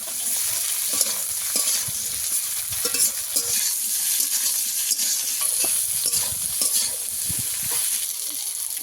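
Eggplant, potatoes and gima greens fry in a pan with a loud, continuous close-up sizzle, while a spatula repeatedly scrapes and stirs through the mix, with no voices.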